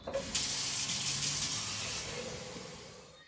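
Water runs from a tap into a cooking pot for Ethiopian steamed bread, a steady rushing stream at close range that fades slightly as the pot fills.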